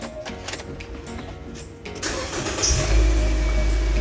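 A 2014 Nissan Grand Livina cranks and starts about two seconds in, heard from inside the car, and the engine then settles into a steady, loud idle rumble.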